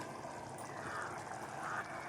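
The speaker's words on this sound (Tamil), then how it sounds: "இப்போது மிக்சி ஜாரை கழுவி தண்ணி சேர்த்துக்கிறேன்" Water poured into a kitchen mixer grinder jar while making green gram gravy: a soft, continuous pouring splash and trickle, fairly quiet and steady from start to finish.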